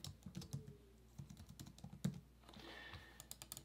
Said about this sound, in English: And then I'm just gonna type in explore.